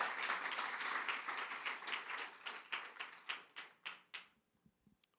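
A church congregation applauding, a sustained burst of many hands clapping that thins into a few scattered, slowing claps and fades out.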